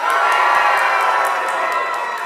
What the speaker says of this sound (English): If it's red, cheer.